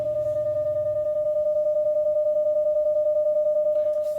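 A steady pure electronic tone holds for several seconds, with a slow, even pulsing in loudness from two tones 10 Hz apart, one at 610 Hz, beating against each other.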